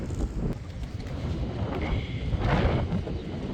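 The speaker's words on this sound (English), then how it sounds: "Sorry about the wind, it is West Texas." Strong wind buffets the microphone in a hot, dry West Texas garden, a loud continuous low rumble with gusty surges throughout and no talking.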